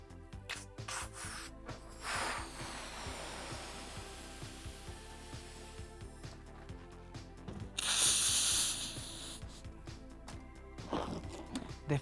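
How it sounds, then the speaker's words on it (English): A 9-inch sizer guides the filling of latex balloons with helium for a Quick Link balloon arch; soft rubbing and intermittent hissing build to a loud, sharp gas burst midway, then fade back to quiet handling noises. "We need to fill all the latex with helium"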